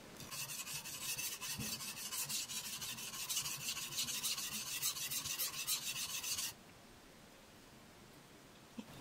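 A knife blade is sharpened Japanese-style on a whetstone, giving close, steady rasping strokes in a quick regular rhythm that stop abruptly, leaving near silence.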